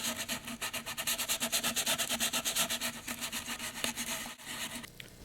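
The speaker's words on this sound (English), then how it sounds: "We'll start with some heavy grit sandpaper and then switch to finer and finer grits until it's nice and smooth." Heavy-grit sandpaper rubs rhythmically over a Saturn V scale model in quick, steady back-and-forth strokes, close and fairly loud, with a brief pause near the end.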